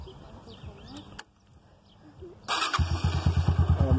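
A motorcycle with its engine enlarged to 195cc, kept at a rural smallholding, starts after some quiet background noise and settles into a loud, close, evenly pulsing idle.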